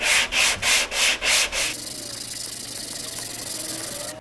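Block sanding an auto body panel over a welded, filled area: five rhythmic rasping strokes, then a long continuous close scraping rub, loud and steady with no talking.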